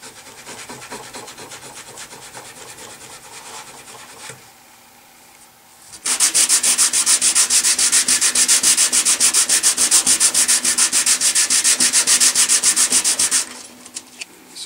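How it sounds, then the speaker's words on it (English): Quad zero steel wool is rubbed steadily on an electric guitar, a loud, fast, rhythmic scrubbing hiss that starts after quieter handling sounds and runs for about seven seconds before stopping. "Got a chunk of Quad Zero steel wool."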